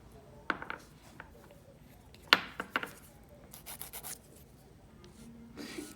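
Short, quiet rasping strokes of a nail file, scattered and irregular, with a few sharper scrapes close up.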